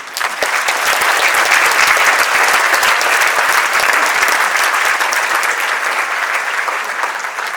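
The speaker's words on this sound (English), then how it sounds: "give a round of applause to all of our 6 awardees tonight again" A banquet audience at an annual meeting and membership dinner gives a sustained round of applause for six awardees, loud, dense clapping filling the room steadily and tapering slightly at the end.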